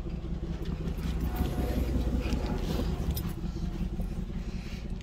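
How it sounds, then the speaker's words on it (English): Steady air conditioning blowing inside a 2003 Infiniti M45, a constant broadband whoosh with a faint low hum, moderately quiet and unbroken, with no talking. "AC blows ice cold."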